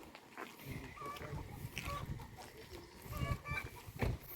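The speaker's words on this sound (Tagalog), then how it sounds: "Napansin ko lang daming manok." Faint clucking from several chickens scattered across an outdoor provincial scene in New Zealand, soft and somewhat distant amid low background noise.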